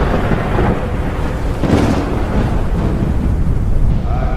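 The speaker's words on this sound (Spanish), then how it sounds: "Un destello de luz inundó la habitación y un trueno retumbó justo encima de ellas" Rolling thunder during a nighttime storm with rain, a loud continuous rumble with a brief crackling swell near the middle, filling the whole few seconds with no voices.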